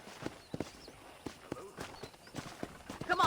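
Horse hooves clip-clop in a steady, uneven walking rhythm in a Western ranch setting in Red Dead Redemption, moderately close and soft, with faint ambient background.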